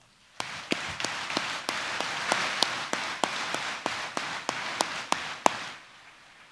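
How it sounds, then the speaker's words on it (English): At a high school graduation ceremony, sharp separate claps ring out in a slow, regular rhythm over a soft wash of crowd applause, with roughly a dozen distinct hits before it stops. "Let's give them a round of applause."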